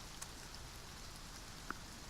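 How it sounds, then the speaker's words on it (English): Steady, faint rain falls in the farming video game Farm Together, a soft even hiss with a couple of tiny drop clicks and nothing else. "Oh, it's raining."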